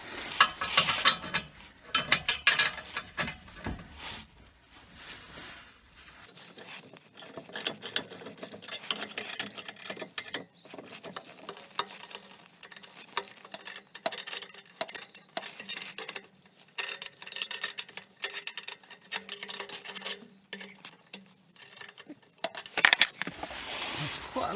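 A ratchet works loose the exhaust bolts on a Toyota Celica, giving repeated bursts of clicking pawl sounds with short pauses between them, and brief speech in places.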